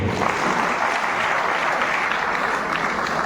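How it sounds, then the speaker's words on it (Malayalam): Audience applause at a ceremony honouring 21 recruits joining the central armed forces: dense, steady clapping from a crowd, fairly loud and continuous for the whole stretch, with no speech over it. "നമുക്ക് നല്ലൊരു കൈയടി കൊടുക്കുക ഇവർക്ക്"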